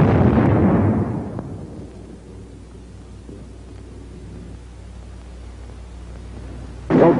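A bazooka round bursts against a sandbag emplacement in a loud, booming blast at the start that rumbles and fades over several seconds, with a second sharp burst at the end.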